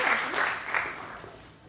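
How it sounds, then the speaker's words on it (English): Audience applause at a public lecture on Australia's role in the global space industry, a short burst of clapping that tapers off within under two seconds, fairly faint and alone. "give her a huge round of applause"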